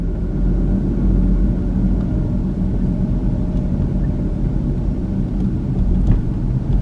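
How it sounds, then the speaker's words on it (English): A car drives through Segundo Barrio, the old part of El Paso, past Sacred Heart Church, its engine and road noise a steady, continuous rumble from inside the vehicle with no talking. "I'm going to drive past the Sacred Heart Church."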